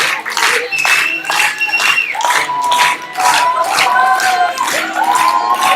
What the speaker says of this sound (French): vous applaudissez fort